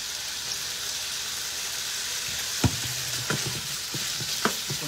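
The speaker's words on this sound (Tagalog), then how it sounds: "Ayan, gisa-gisa na natin." Ingredients for pancit gisado are sautéed in a pan, a steady hiss of frying with a few sharp spatula knocks and scrapes, close, without speech.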